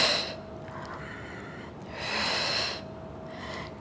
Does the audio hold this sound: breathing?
yes